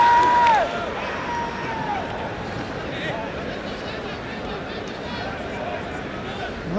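A stadium crowd in Bangladesh cheers during a football match between Argentina and Nigeria, a broad, steady roar that swells briefly at the start and then settles into constant babble, with commentary layered over it.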